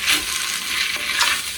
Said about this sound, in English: And this is another thing you just want to cook down a little bit,